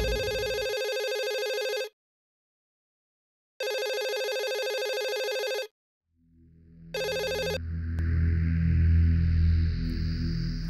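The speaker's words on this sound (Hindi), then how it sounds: "बाबूजी का फोन है।" A telephone rings indoors in a household drama: two long electronic ringing bursts with a pause between, then a third short ring cut off as a soft musical score swells underneath.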